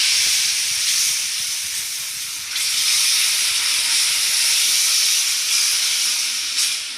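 Milk poured into a hot pan with jaggery and stirred continuously for a homemade sudka cold remedy, a loud steady hiss and sizzle with a sharp fresh burst partway through and another near the end.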